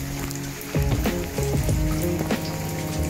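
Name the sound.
heavy rain falling in the wet season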